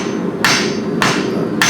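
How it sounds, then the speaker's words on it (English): A heavy hammer forges a copper ladle with three sharp, ringing metallic strikes at an even pace, close and loud, each blow sounding alone over a low background hum. "You see I've moved to a little bit more aggressive hammer."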